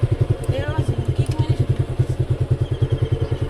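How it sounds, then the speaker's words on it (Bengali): A motorcycle in Munshiganj that won't start gives a close, rapid, evenly pulsing mechanical chug as it is cranked, with a voice briefly over it. "কেমনি স্টার দিলাম স্টার্ট হয় না"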